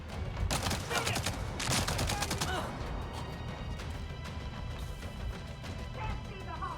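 Bursts of gunfire in a firefight in Avatar: Frontiers of Pandora, a dense rapid volley early on, then a second burst with scattered shots and game noise trailing off.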